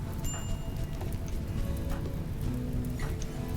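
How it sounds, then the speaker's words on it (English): Steady rain falls in a Neolithic tribal survival video game, a soft continuous patter of drops on surfaces that holds at an even level throughout without a break. "Alright, it's raining."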